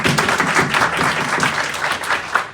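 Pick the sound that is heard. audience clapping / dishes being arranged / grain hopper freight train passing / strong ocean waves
audience clapping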